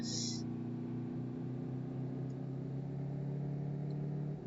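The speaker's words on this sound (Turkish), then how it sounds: "Şu anda ana gaz veriyorum araca." A vehicle engine rumbles steadily and close, holding a strong low drone as the driver gives gas, with a brief high tone at the start and no talk.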